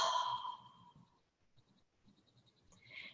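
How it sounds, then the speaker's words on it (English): One slow, deep breath drawn in and sighed out during a guided group meditation, soft and breathy at first, then fading into near silence with faint light sounds in the background. "everybody take a nice deep breath"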